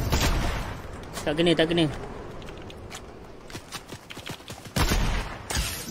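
Rapid bursts of gunfire from a Fortnite duo match, crackling loud and dense at the start and again near the end, with a sparse string of shots in between while players talk over it.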